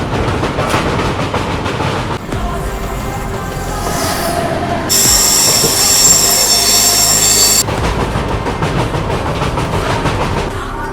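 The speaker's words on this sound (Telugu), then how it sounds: "Tungabhadra express crossing Tungabhadra river." The Tungabhadra Express rumbles across a bridge over the Tungabhadra river, a steady loud rolling roar of wheels on rails with a few seconds of bright, sustained metallic wheel squeal in the middle.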